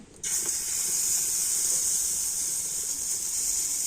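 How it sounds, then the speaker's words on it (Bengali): Gram flour and milk batter hitting an oiled frying pan, a sudden loud sizzling hiss that starts abruptly and holds steady. "এবার আমি ব্যাটারটা একটা হাতাতে করে নিয়ে আর ফ্রাই প্যানে দিয়ে দেব"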